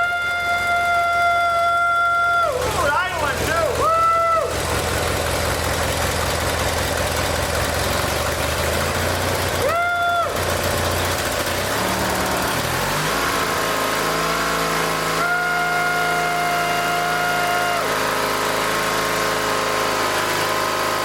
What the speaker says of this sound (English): Fire it up, fire it up, fire it up, Carol